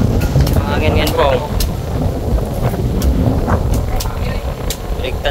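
Steady wind buffets and rumbles across the microphone, a low roaring gust that runs throughout with faint sounds beneath it.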